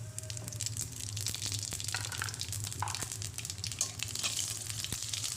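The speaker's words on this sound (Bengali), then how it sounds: "গোটা জিরেটা দিয়ে একটু সামান্য নাড়াচাড়া করে নেব" Whole cumin seeds frying in oil in a pan while stirred, a soft steady sizzle with light scraping and crackling, fairly quiet and close.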